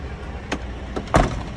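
A truck door clunks three times in quick succession: a soft first knock, a lighter second one, then a louder, fuller slam, each short and close against a quiet background.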